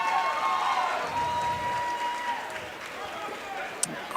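Crowd at a high school region wrestling tournament reacting to an upset pin: a broad, distant roar of cheering and clapping that sustains and slowly fades, with a commentator's voice over it.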